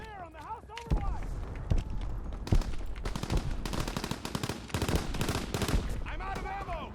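Rapid bursts of gunfire in the World War II shooter Call of Duty: WWII crackle in quick volleys over battlefield noise, with someone talking briefly at the start and end.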